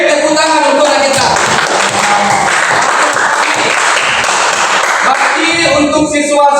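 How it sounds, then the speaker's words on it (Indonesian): A class of schoolchildren claps for a classmate, giving dense, sustained applause with a few voices mixed in. "Tepuk tangan untuk anak kita."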